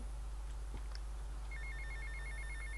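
Telephone ringing in repeated short electronic pulses, starting partway through and continuing steadily above a constant low hum, with no talking.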